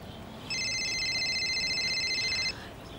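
A mobile phone rings with a pulsing electronic tone that plays steadily for about two seconds, fairly clear over a quiet indoor background.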